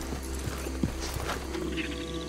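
Horse hooves clip-clopping at a steady ride in Red Dead Redemption 2, with a faint whinny, set against a continuous in-game ambient hum.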